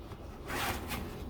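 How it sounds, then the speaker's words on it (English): A side zipper on a waterproof front-loading washing machine cover is pulled closed, a short close rasping zip that swells midway and fades after about a second. "it comes with two zippers on the side like this"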